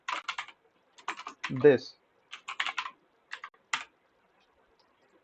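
Code being typed on a computer keyboard comes through as short bursts of crisp, close clicks in uneven clusters, with a brief spoken word between runs.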